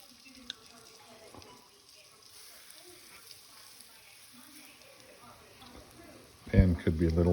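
Flour-dredged boneless pheasant breasts frying in a preheated pan, with a soft faint sizzle underneath and a louder burst near the end as the meat hits the hot oil, while someone talks.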